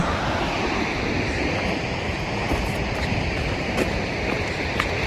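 Weinia waterfall in Meghalaya sends a constant, dense roar of rushing water, steady and unbroken, heard from a viewpoint on a forest trail.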